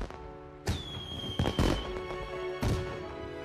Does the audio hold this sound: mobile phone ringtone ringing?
no